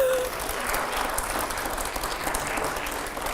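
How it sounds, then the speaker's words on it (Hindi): A studio audience at a televised Hindi talk show with Baba Ramdev bursts into steady, dense applause that holds at an even level throughout, with a voice faintly present underneath. "जोरदार तालियां हो जरा।"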